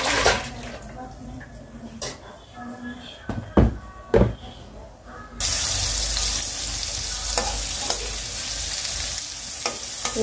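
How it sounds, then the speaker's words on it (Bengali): Pieces of pointed gourd (potol) drop into hot oil in a pan. After a few seconds of quiet clatter, a loud, close, continuous sizzle bursts in and holds steady. "এই যে পটলটা কিন্তু বেশ লাল লাল করে ভাজার জন্য দিয়ে দিচ্ছি"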